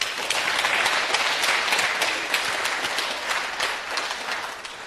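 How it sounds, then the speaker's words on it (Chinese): A lecture audience applauds steadily to welcome Tsinghua University professor Qin Hui at a 2007 talk, with dense, even clapping lasting throughout and no voices over it. "掌声欢迎"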